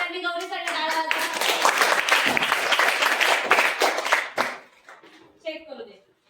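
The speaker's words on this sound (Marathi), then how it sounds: "चला सगळ्यांनी गौरीसाठी टाळ्या वाजवा." A crowd of children applauds a classroom maths bingo winner, a dense burst of clapping that lasts several seconds, then thins to a few scattered claps with voices mixed in.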